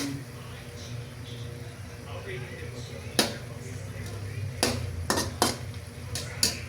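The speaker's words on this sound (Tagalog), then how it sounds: "Haluin lang natin para maging pantay ang luto ng ating chicken." Chicken is stirred in a cooking pan over a low sizzle, with several sharp metallic clinks of the utensil against the pan, and a voice talking through it.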